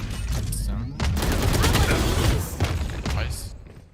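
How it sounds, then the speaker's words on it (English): Missiles launch in a Valorant match, loud dense bursts of rapid explosive fire packed over several seconds, with players talking over the barrage. "All missiles away."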